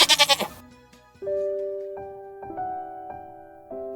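A goat bleats in a quick series of loud, wavering cries at the very start, then gives way to a soft, sustained melodic tone in the background.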